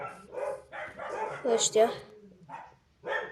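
Dogs in the Minecraft video game let out several short, yappy barks in quick bursts, mixed with a player speaking over the game sounds.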